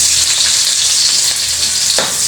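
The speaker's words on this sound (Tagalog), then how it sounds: "ilagay ko na yung bawang. Tapos ilagay ko na rin yung sibuyas." Garlic and onion frying in a pan, a loud, steady hiss of hot oil with a brief stir or clatter near the end.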